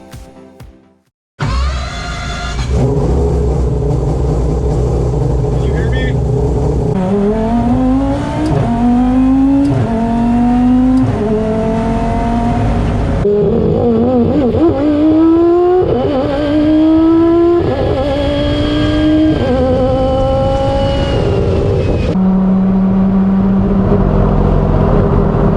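A turbocharged 5-rotor rotary car with a 119mm turbo fires up and accelerates hard, its loud buzzing engine note climbing through several gear changes, each shift dropping the pitch before it rises again, close to the listener.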